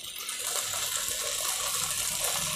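Milk being poured into a pot of vegetable pulao while it cooks, a steady close liquid pour that runs unbroken for a few seconds.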